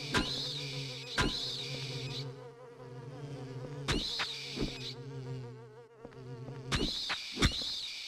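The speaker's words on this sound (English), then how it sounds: "I like that they sound like mosquitoes." Mosquito-like insect enemies in Silent Hill 4 buzz in a high, droning whine, interrupted by sharp repeated thuds and swats at a few-second intervals, loud and close with no speech.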